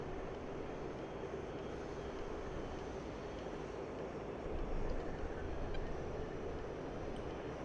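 A Mirage jet engine in the DCS flight simulator roars as a steady, fairly faint broadband drone, swelling slightly near the end.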